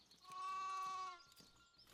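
A sheep on a village farm in the video game Foundation gives a single clear, drawn-out bleat lasting about a second, fairly quiet against a faint background.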